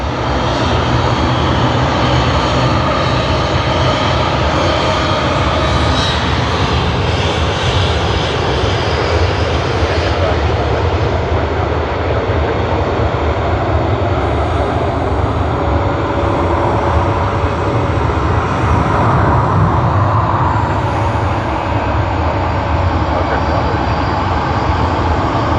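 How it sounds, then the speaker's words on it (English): An American Airlines Airbus A380 departs Sydney Airport, a loud, sustained jet engine roar holding steady throughout with a broad rumbling hiss, heard alone. "Whoa, American Airlines A380 out there. We are getting a lot of those departures."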